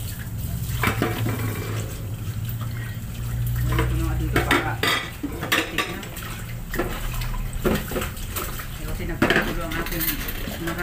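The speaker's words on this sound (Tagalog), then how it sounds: "Tinatabi yung mga plato." Plates being set aside in a home kitchen clatter and clink against each other and the counter, with running water and scraping, in irregular bursts over about eleven seconds.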